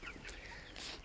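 Local chickens kept for eggs on a Nepali homestead cluck in a brief, moderately loud burst against steady outdoor background noise, with no talking.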